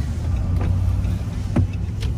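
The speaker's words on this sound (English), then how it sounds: "We'll test the power windows real quick." The power windows of a 2012 Dodge Ram hum close inside the cab over a steady low engine idle, with a couple of brief motor whirs and soft thuds as the glass moves.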